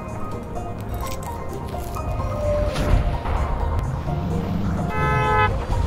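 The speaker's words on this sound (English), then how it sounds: "Stop honking!" Car horn honking in a video game, several short toots and a longer blare over engine noise, crashes and thuds, with a voice talking underneath.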